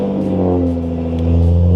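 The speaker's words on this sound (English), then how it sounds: "So now let's hop into the Supra fired up, make sure everything sounds normal." A Toyota Supra engine with a straight pipe idles and revs with a deep, steady rumble, rising slightly in pitch as the throttle opens, loud and close.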